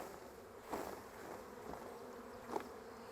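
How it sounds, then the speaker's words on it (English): A faint, steady buzzing of honeybees in flight around a hive frame hums throughout, with a few soft bumps and knocks nearby. "Bees are flying."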